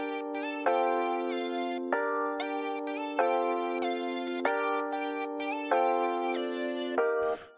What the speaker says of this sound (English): Let me play without the flanger effect so you see sound